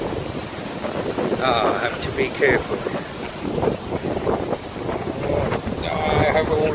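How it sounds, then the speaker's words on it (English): Strong stormy wind buffets a phone microphone outdoors during a walk with dogs, a loud continuous roaring rumble with gusts, while someone speaks over it. "Oh, the wind is taking my phone away."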